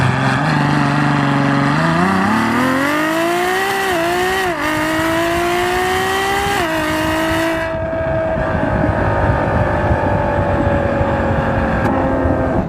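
A Ferrari FF with all-wheel drive launching hard, its engine note climbing steeply through several gear changes with brief dips between shifts, loud and close, then settling into a lower roar as the run eases off, with no talking.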